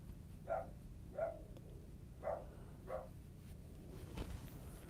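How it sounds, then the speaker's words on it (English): Dogs barking indoors, four separate single barks spaced about a second apart at moderate distance over a steady low background hum, with no talking. "if it's not one dog barking, it's the other one"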